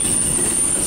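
A freight train with a maroon and gray CP Heritage locomotive trailing as a DPU rolls past close by, a loud continuous rumble of wheels with a steady high metallic squeal above it.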